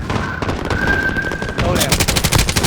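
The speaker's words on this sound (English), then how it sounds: "Taking fire!" Call of Duty Warzone gunfire in a rumble match, rapid automatic bursts rattling throughout and growing louder and denser near the end, with a voice calling out over it.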